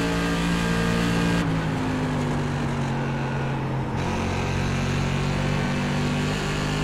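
SK Modified race car in the iRacing sim at North Wilkesboro Speedway drones loudly and steadily through the whole stretch, with a sustained engine note that shifts pitch as it accelerates and lifts, and no talking over it.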